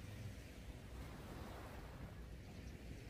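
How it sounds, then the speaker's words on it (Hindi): Steady flowing water like waves or a gentle stream plays as a continuous, even wash of sound, a calm nature backdrop for a Hindi guided meditation, with no voice over it. "पानी की आवाज़"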